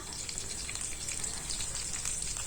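Steady, loud sizzling of water spinach stir-frying in a wok over high heat, an even hiss with faint crackles and no talking.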